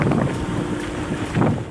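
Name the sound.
strong wind and rain during Typhoon Odette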